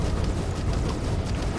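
A spaceship is blown apart in Starfield space combat, a dense, continuous roaring rumble of explosion and debris with heavy low end, loud and sustained throughout with no break.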